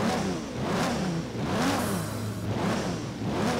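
A car engine in the video game Forza Horizon 3 revs up and down in repeated swells, a smooth whirring roar rising and falling in pitch several times.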